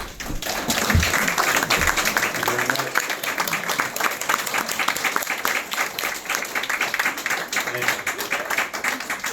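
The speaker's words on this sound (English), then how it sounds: "I can get used to the clapping" A crowd of conservatives at a political speaking event breaks into loud, sustained applause, dense overlapping clapping that holds steady throughout with a few brief voices mixed in.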